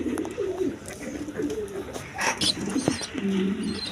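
Pigeons of fancy breeds kept for sale, cooing in repeated low throaty phrases, fairly close, with faint chirps and background bustle.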